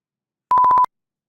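A rapid burst of six short, identical electronic beeps in an even rhythm, clear and isolated against silence.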